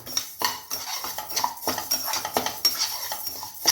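Moong dal dry-roasting in an iron pan, stirred with a metal spoon that clinks and scrapes rhythmically against the pan in quick, close, fairly loud strokes.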